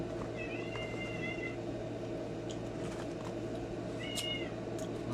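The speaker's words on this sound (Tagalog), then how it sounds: "Dito na naman yung pusa." A cat meows twice, with a short drawn-out mew early on and another near the end, fairly faint over a steady indoor hum.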